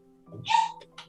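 A dog gives a short whimpering whine that rises into a bark, followed by two quick yips, close by and moderately loud over a faint steady tone.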